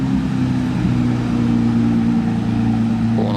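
Hypercar fitted with a Capristo exhaust rolling through Monaco near the harbour, giving a continuous low, steady engine drone at moderate distance with no clear rev spike, heard alone.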